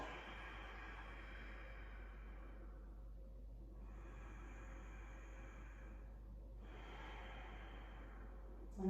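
Slow, deep breaths during a yoga flow, close and soft: two long exhales through the nose, one breath following the other over a low steady hum, with no talk.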